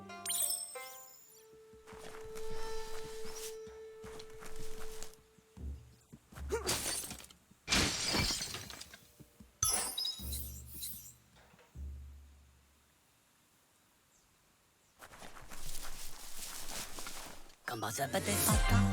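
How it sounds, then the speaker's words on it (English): A wooden box smashed in the action RPG Biomutant, with loud bursts of breaking and shattering debris amid game music and effects, several crashes spread across the scene. "You shouldn't worry about smashing up the box."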